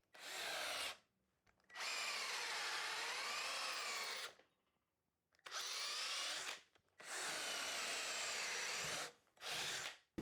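A Ryobi RDD18-0 18V cordless drill bores into material in four bursts of high whining, grinding drilling. The bursts are separated by short pauses, are close and loud, and have no talk over them.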